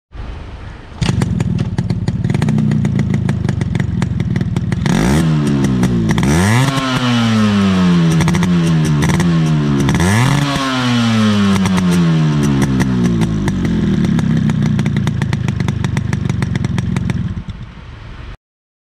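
A Yamaha RX 135 two-stroke motorcycle crackles at a buzzy idle, then its exhaust revs up and drops back twice in sweeping bursts before settling to a raspy idle, loud and close with no talk.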